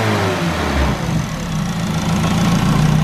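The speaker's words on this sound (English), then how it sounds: "Give her a wee rev, my man." A K-swapped Mazda FD RX7 engine idles loudly up close, then its revs rise and fall in a short blip before settling back into a rumbling, slightly uneven idle.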